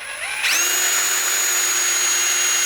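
A drill bit grinds into a stuck exhaust bolt on an Evinrude outboard, a steady loud high-pitched whine that rises in pitch at the start and then holds continuous, with no talking.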